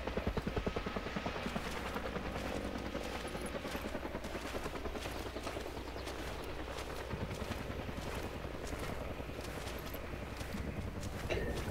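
A civilian helicopter in the game Arma 3 drones steadily overhead at night with thumping rotor pulses, joined by scattered clattering and distant pops throughout.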